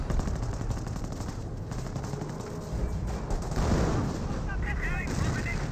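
Tank gunfire in Company of Heroes, a dense, rumbling barrage of shots and blasts under continuous battle noise, with a commentator talking over it.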